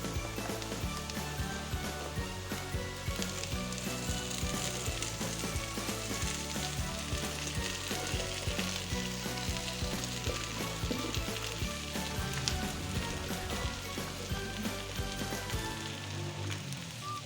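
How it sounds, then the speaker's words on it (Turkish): Spinach sizzles steadily as it fries with softened onions in a pan for a börek filling, a dense, continuous crackle heard up close with no voices. "Şimdi ıspanakları döküyorum."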